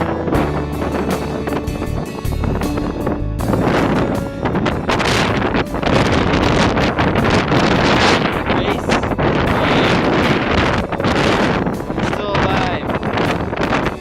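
Strong wind at base camp below Mt. Whitney, roaring and buffeting hard against the microphone in loud gusts, with heavy rumble throughout and no let-up.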